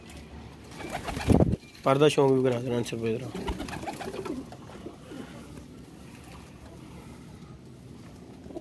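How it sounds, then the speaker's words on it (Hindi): Fancy pigeons from Kasur give a close, rolling coo right after a loud knock, then the cooing fades into lighter bird sounds as someone speaks throughout. "देख लें कबूतर फिट एंड फाइन कबूतर हैं"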